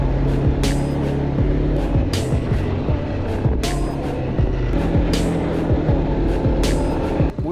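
A quad bike ATV engine drones steadily up close during a slow ride, its low harmonic hum shifting in pitch with throttle, with periodic rattles and clatters over the continuous motor noise.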